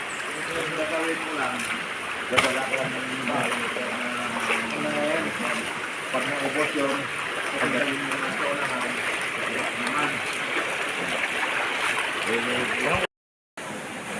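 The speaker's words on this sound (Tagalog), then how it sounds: "pumunta kami dito sa gubat, sa ilog" River water flows steadily through a forest, a continuous broadband rush heard close, with people talking over it for most of the stretch and one brief sharp knock early on.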